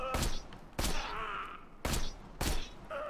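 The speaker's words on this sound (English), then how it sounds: "Just a few more shots should do it." Four loud, sharp sniper rifle shots crack out in Borderlands 2 at uneven intervals, each with a short ringing tail over a low background hum.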